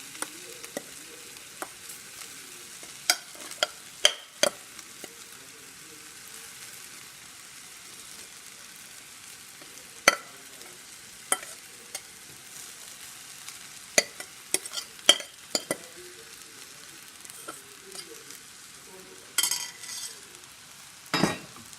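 Vegetable pulao made with jeerakasala rice is stirred in a pan, with a soft background sizzle and scattered sharp scrapes and clinks of the spoon against the metal at irregular intervals; no voices.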